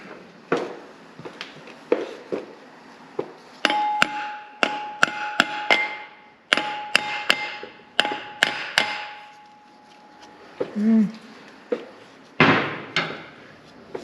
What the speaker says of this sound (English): we're going to grab our rubber mallet as soon as I can find it